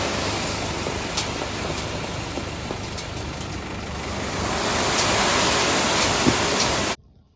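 Water drains steadily through a siphon hose from a concreting job, making a continuous rushing, hissing flow that holds even for several seconds and then cuts off abruptly.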